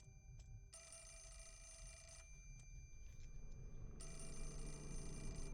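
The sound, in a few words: telephone ringing in video game Fatal Frame 4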